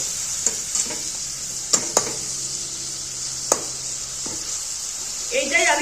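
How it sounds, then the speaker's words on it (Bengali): Spice masala with sugar and salt stir-fried for a cauliflower dish, a soft hiss of frying under a few sharp clinks and scrapes of the spatula against the pan, close and intermittent. "এবার আমি মশলাটা ভালো মতো কষিয়ে নেব"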